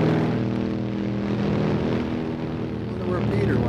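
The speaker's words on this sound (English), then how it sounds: "that old chopper" An old helicopter passing overhead, a steady droning rotor and engine hum that stays loud and constant throughout, with a voice talking over it.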